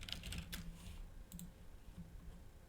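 Typing on a computer keyboard: quiet, close clusters of quick key clicks in short irregular bursts, with brief pauses between them and no voices.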